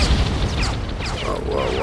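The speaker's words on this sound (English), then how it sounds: "Watch that defensive fire!" Defensive gunfire in the Nathan Zachary video game: a dense, continuous barrage of booms and crashes under layered effects and music, loud and close with no pause.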